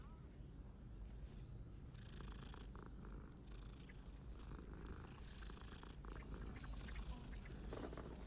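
A cat in the video game Hogwarts Legacy purrs continuously, a low rumbling drone that stays close and steady throughout.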